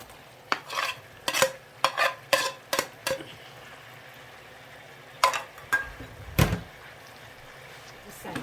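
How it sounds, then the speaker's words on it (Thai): A spatula or spoon scrapes and clacks in short, irregular strokes as meat is stir-fried with pickled bamboo shoots in a pan. A cluster of quick strokes comes first, then a pause, then a few more. "เนื้อจะสุกแล้ว ใส่เลยหน่อไม้ดอง"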